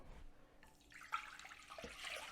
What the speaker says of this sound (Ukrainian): Для цього в мене є кастрюлька, є 1 літр води. Я наливаю в кастрюлю.